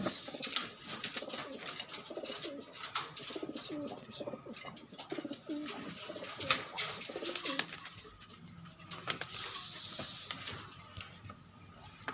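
A homing pigeon coos softly nearby, with low repeated murmuring calls over a steady background hum and a brief hiss toward the end.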